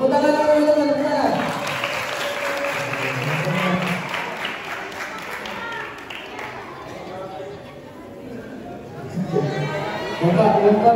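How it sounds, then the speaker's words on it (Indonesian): A group at an Eid al-Fitr gathering with Islamic boarding school students claps in a lively burst. People talk and chatter over the applause, which eases in the middle and swells again near the end. "Tepuk tangan untuk teman-teman."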